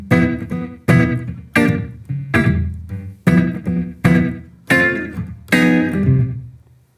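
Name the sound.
guitar 2-5-1 chord sequence resolving to 4 chord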